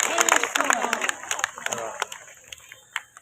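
An audience at an open-air poetry gathering (kavi sammelan) in Ayodhya breaks into loud applause with some cheering, dense and busy at first and then thinning to scattered claps. A voice talks over the start.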